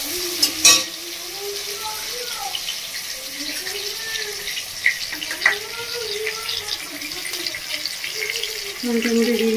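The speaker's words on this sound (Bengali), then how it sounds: "দেখুন বন্ধুরা, টমেটো ভালো করে একটু ভেজে নিয়েছি।" Tomatoes sizzle and crackle in hot oil while being stirred for a bhola fish curry in a home kitchen. Someone narrates over the steady frying, with occasional louder scrapes and clatters.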